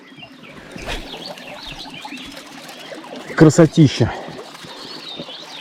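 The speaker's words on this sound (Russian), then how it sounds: "Птички поют." Birds calling beside a river while fishing on an overcast day, a few loud close coos or calls in a quick cluster midway over soft ambient background, with someone speaking briefly.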